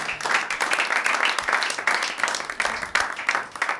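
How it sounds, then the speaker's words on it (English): Steady audience applause with dense clapping from a comedy show crowd, moderately loud and sustained throughout without a break. "Give yourselves a round of applause."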